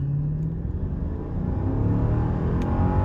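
A car accelerates hard from a standstill toward 100 km/h on an empty road, its engine rumbling loudly from inside the cabin as the pitch climbs steadily over road noise.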